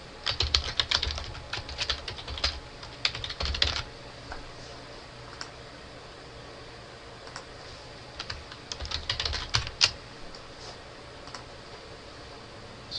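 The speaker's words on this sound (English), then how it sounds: "I'm just going to type in my address for the time being." Typing on a computer keyboard comes in quick clattering bursts of clicks, strongest early and again near the end, with quieter gaps and light background hiss between.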